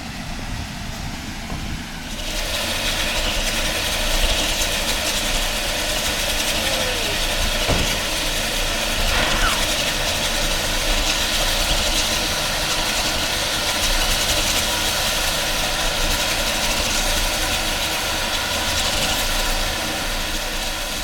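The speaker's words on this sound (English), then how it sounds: "Here comes the steam engine." A steam locomotive on the Yosemite Mountain Sugar Pine Railroad idles while taking on water, a steady low rumble and hiss that starts abruptly after a quiet opening and holds loud and close throughout.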